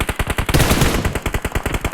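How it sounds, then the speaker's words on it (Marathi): Loud, rapid automatic gunfire from a 3v3 online shooter video game, a fast, close burst of shots in a steady rhythm that briefly blurs into a dense volley before separating into distinct cracks again. "माझ्या इथे खूप फायरिंग करतायत."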